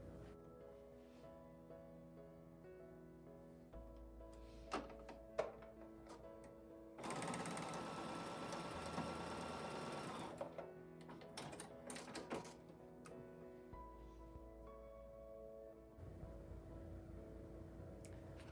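Sewing machine stitching fabric pieces together for a wonky-letter quilt block, in several short quiet bursts of rapid mechanical whirring, with a longer, louder run in the middle.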